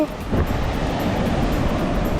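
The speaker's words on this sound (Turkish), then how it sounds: "O deniz coştu be." Rough sea waves surge and crash in a continuous roar, with wind buffeting the microphone.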